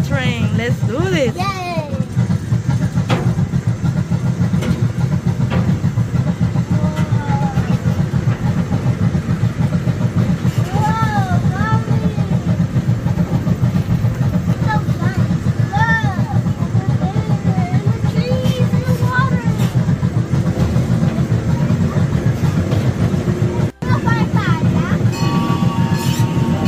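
Miniature zoo train ride rolling along its rails at a zoo, a steady low rumble running throughout with occasional squeaky tonal wheel squeals, while children and adults talk and cheer excitedly over it.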